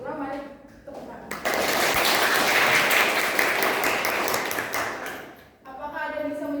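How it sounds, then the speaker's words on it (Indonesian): A classroom of students bursts into applause for a group presentation, several seconds of dense clapping between bits of a teacher's speech before and after. "Mari tepuk tangan."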